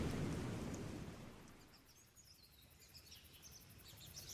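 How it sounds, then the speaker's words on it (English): Storm sound effect in a dramatized telling of a shipwreck story: a loud, rumbling thunder roll with rain fades over the first seconds, leaving a softer hiss of rain and faint bird calls. "Father, please stop this storm."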